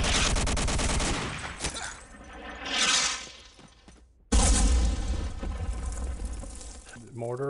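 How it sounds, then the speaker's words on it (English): Mortar rounds landing in a multiplayer shooter match, a burst of loud blasts and crackling gunfire, then a sharp heavy impact partway through followed by dense rumbling fire, with voices talking over parts. "Mortar, I think."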